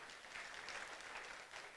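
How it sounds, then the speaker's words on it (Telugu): Faint, distant applause in a hall after a song tribute, a steady hiss of many hands clapping with no voices over it. "ఒకసారి చప్పట్లు."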